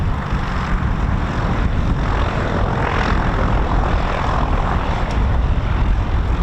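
A Piper Warrior II light propeller plane powered by a 150-horsepower Lycoming O-320 engine drones loudly and steadily nearby, a continuous engine rumble with wind rush and no talking.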